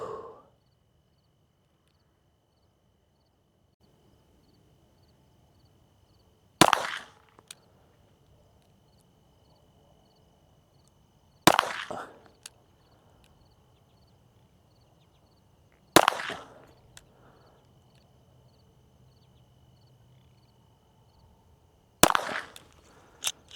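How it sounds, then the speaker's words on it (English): Four gunshots fired at a target 25 yards downrange during a zeroing drill, each a sharp, loud crack spaced several seconds apart with quiet outdoor ambience between. "We're gonna see what I can get for these last 4 rounds."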